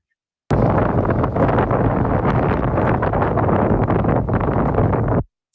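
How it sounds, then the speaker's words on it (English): Strong wind buffets the microphone on an autonomous boat arriving at Hawaii just ahead of a tropical storm, a loud continuous roar and rumble that starts abruptly and cuts off near the end. "It's pretty windy then."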